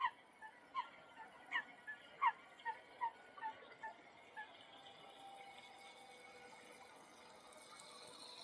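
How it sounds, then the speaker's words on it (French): Ducks squawk in a run of about ten short, sharp cries over the first few seconds, heard at a distance outdoors, followed by quiet background noise with no talking. "j'entends les canards qui sont en train de s'égosiller"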